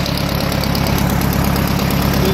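A 1934 Allis-Chalmers M crawler with its UM engine and a freshly replaced carburetor float runs steadily at close range, a loud, even rumble with a fast, continuous pulsing throb and no talk.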